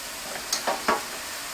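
Mushrooms cooking in olive oil with a soft sizzle, broken by three brief scraping stir sounds, close and fairly quiet, with no voices.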